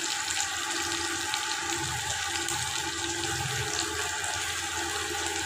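Medium-sized tomatoes fry in a pan as they are cooked down for chicken salan, giving a steady, close, bubbling sizzle that runs evenly throughout with no voices.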